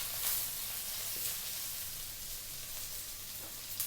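Chopped onions sizzling steadily in a hot pan for a Filipino sardine dish, a continuous soft crackle with faint stirring and no talk.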